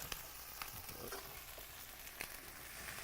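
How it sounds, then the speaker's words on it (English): Corn sizzles in butter in a saute pan on a cooking show, a steady, soft hiss of frying with occasional faint pops and clicks of stirring, heard close and without talk. "And you hear that sizzle, right? That's what you want to hear as you're sauteing."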